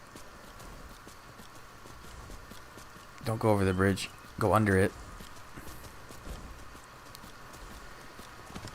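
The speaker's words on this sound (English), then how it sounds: "Oh, this horse doesn't turn well." A skeleton horse's hooves clip-clop steadily in Skyrim, a soft, regular beat of footfalls heard throughout beneath someone speaking.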